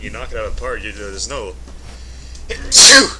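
Someone talks briefly, then one loud, sharp sneeze bursts out close to the mic at the end.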